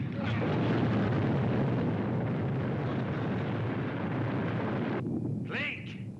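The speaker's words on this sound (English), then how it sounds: "You have triggered the avalanche." An avalanche sound effect from a 1971 television comedy, a loud sustained roaring rumble that fades away near the end, followed by a brief higher sound.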